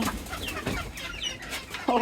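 Farmyard hens cluck close by in short, repeated bursts, a busy overlapping chatter of several birds with one sharper call at the end.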